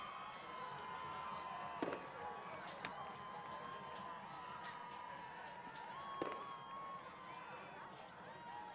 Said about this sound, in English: let the fireworks begin